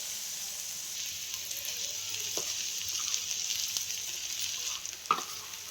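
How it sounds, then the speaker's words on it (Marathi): Coarsely ground soaked mung bean paste sautés in a hot pan for a Maharashtrian pithla, giving a steady close sizzle with a few soft stirring knocks and one sharper clink near the end. "ते आपण याच्यामध्ये टाकून त्याला पण आपण चांगलं परतून घेणार आहे"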